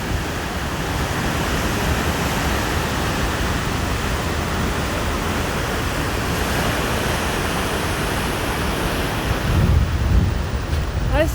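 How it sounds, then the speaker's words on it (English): Creek water rushing at Athabasca Falls in Jasper National Park, a steady loud broadband roar of flowing water filling the whole stretch without break, with faint wind. "Look at the beautiful creek."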